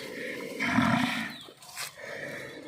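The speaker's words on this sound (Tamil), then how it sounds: "இது காங்கயம் மயிலை மாடு காங்கயம் மயிலை மாடு" A Kangayam mayilai bull, a Kangeyam cattle breed, gives a deep, loud moo, pauses briefly, then lets out a second, shorter bellow close by, with no speech.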